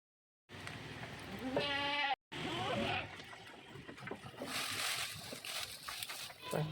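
Goats bleat nearby in short wavering cries amid rustling and shuffling noises, with some sloshing in the background.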